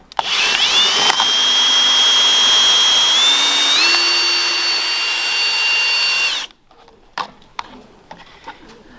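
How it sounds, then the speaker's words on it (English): A loud, steady high-pitched hole saw whine grinds continuously through a planter pot for several seconds, shifting pitch slightly, then stops abruptly, leaving scattered clunks and rattles. "now I need to drill holes in the middle part of this planter"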